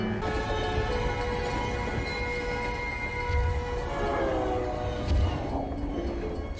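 A train rumbles nearby with steady rail noise and a faint squeal of wheels, while a horn-like tone rises near the end.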